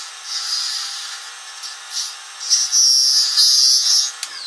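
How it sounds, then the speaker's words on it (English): A wood lathe turns a small wooden Christmas tree ornament as a gouge cuts into the spinning workpiece, a thin high whine and scraping hiss that builds and steadies in bursts, close by with no talk. "I'm coming in with the gouge like that"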